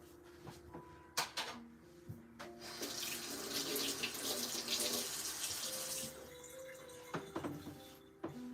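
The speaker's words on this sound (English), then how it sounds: "that was a very long hand wash" Hands washed under a running kitchen tap, a steady close stream of water splashing in a sink for several seconds, with a few clinks and knocks before and after.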